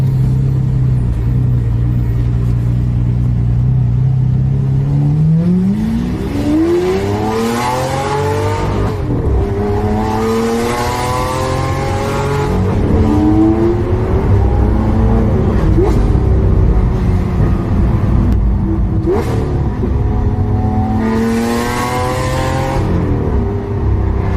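A Lamborghini Aventador engine treated with Eco Racing Nano Oil, loud and close, idling with a deep rumble then revved repeatedly in several rising and falling sweeps, each climbing to a high snarl before dropping back.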